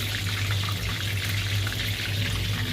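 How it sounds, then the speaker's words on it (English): Thai-style chicken wings frying in a pot of bubbling oil, giving a steady, dense sizzle that runs unbroken at even loudness over a low hum, with no talking. "the oil has been bubbling the entire time"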